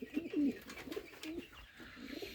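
Pigeons coo softly nearby in several short, throaty bursts, with quiet background noise between calls.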